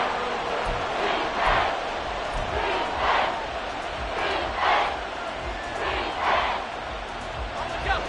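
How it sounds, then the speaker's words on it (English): Football stadium crowd roaring loudly during a big game moment, a sustained wall of cheering with rhythmic swells rising and falling about every second and a half, no clear talk on top. "This crowd turning up the decibel level."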